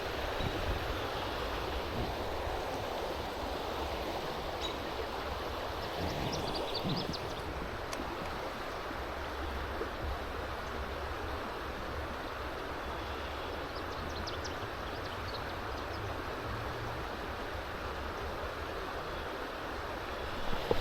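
Moving water at Bode Lake rushes in a steady, broad wash for the whole stretch, loud and close with no break, no voices over it.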